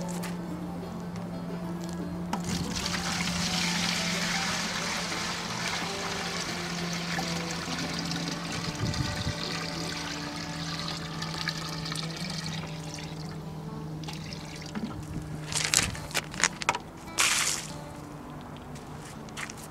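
Water steadily trickles and runs through a gravity water filter loaded with about 40 pounds of water at an RV stop in the Columbia River Gorge, a continuous close flow with a low hum beneath and a few sharper splashes near the end.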